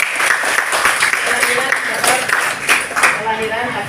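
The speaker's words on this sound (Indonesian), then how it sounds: "Tepuk tangan dulu buat teman." Students applauding a classmate in a classroom during a Hindu religious studies lesson, moderate clapping that continues while voices talk over it.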